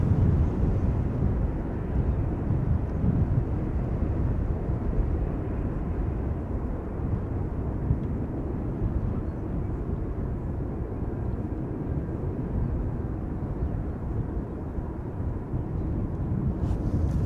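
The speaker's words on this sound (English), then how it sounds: "up next, Embraer 190, destination Edinburgh, KLM flight 925" A KLM Embraer 190 jet airliner departs Schiphol Airport for Edinburgh, its engines giving a constant loud low roar that swells slightly at first and then holds steady, with no voices.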